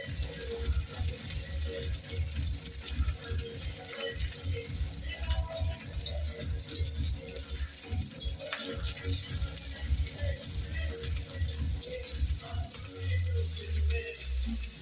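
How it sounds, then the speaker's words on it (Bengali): Ginger garlic paste fries in a pan for a hilsa fish dish, giving a steady, fairly loud hiss with a watery, gushing texture that runs without a break from start to finish. "আদা রসুন ভাজা হয়ে গেছে।"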